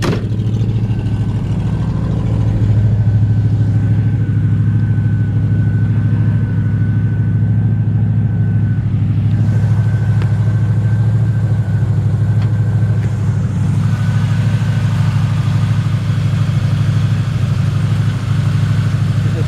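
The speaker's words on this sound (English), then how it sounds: "nice aggressive exhaust. Idle set a little bit high right now." A 1968 Chevrolet Camaro engine with glasspack mufflers idles steadily, set slightly high, with a deep, throaty exhaust rumble, running continuously and loud with no talking.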